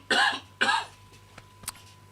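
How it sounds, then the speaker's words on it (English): Two sharp coughs in quick succession, close and fairly loud, followed by a faint click and quiet room noise. "I should have pressed the cough button for that one."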